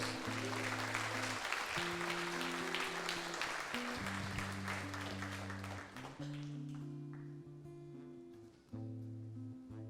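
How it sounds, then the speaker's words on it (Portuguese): A church congregation applauds at a Portuguese-language evangelical service, steady dense clapping filling the room while sustained organ or keyboard chords play underneath, tapering slightly toward the end. "Você pode aplaudir a ele, querido."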